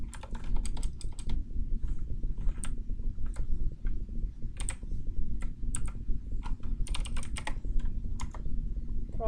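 Quick bursts of typing on a computer keyboard while writing code, irregular clusters of crisp key clicks close up with short pauses between them, over a low steady room hum.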